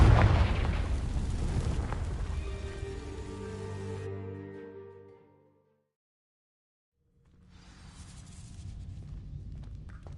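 A Confringo fire spell explodes among dry vines in the Hogwarts Legacy video game, one loud booming blast with a ringing magical tail that fades to silence before a low rumbling ambience returns.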